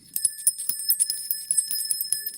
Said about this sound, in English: What's that bell for?